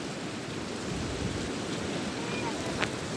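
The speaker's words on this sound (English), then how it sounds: "See where waves are going." Sea waves wash onto Flamborough beach in a steady broadband roar, muffled by gusts of wind noise across the microphone, with no clear breaks between surges.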